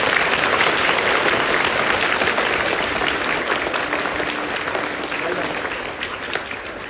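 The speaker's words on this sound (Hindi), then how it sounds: "जोरदार तालियां बजाइए अपने आप के लिए।" Loud, continuous applause from a large crowd at a 2 October cleanliness-drive celebration, dense clapping that tapers slightly toward the end, with a voice faintly underneath.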